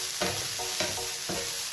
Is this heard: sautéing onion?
yes